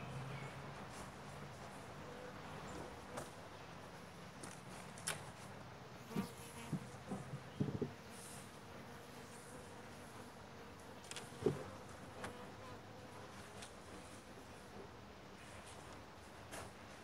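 Bees buzz around an opened beehive during an inspection of a new colony, a faint steady drone with individual insects passing close now and then and a few soft knocks.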